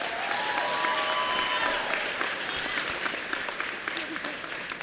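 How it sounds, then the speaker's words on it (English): A graduation ceremony audience applauds the Class of 2017, dense sustained clapping filling the hall at fairly loud level, with faint voices and a brief whistle-like tone mixed in. "Let's give a round of applause for everyone here tonight."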